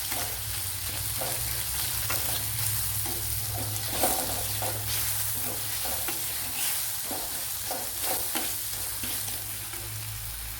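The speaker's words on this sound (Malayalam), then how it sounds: "ഈ തക്കാളിപ്പഴം നല്ലപോലെ ഒന്ന് വെന്ത് ഉടയണം. അത് അതുവരെ ഒന്ന് ഇളക്കി കൊടുക്കാം." Tomatoes cook down in a hot pan for a papaya varuval, with a constant close sizzle and a regular rhythm of spoon scrapes as they are stirred; no voices.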